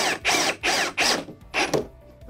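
A cordless drill set to screwdriver mode drives a screw into wooden slats for a shoe rack, four loud buzzing bursts in quick succession, close up with no talking.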